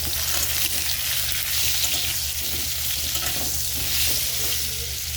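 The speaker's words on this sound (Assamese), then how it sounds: "পটলকেইটা এতিয়া মই ল' ফ্লেমত ভালকৈ ভাজি ল'ম।" Pointed gourd, salted and dusted with turmeric, frying in a pan on a low flame, a dense continuous sizzle close by with steady stirring and no voices.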